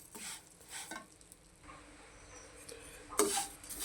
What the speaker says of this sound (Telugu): ఈ నెయ్యిలో సేమియా వేపుకుంటే కమ్మగా ఉంటుంది